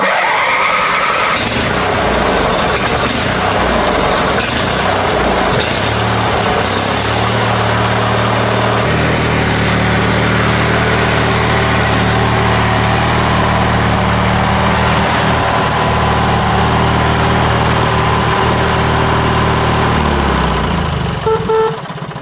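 A Craftsman lawn tractor engine cranks and fires from cold, then settles into a loud, steady idle close by that runs for many seconds before cutting off near the end.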